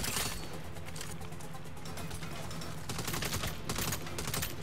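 Sustained turret gunfire in the video game Saints Row, a dense, continuous stream of loud bursts with heavier flurries toward the end, filling the whole stretch without pauses.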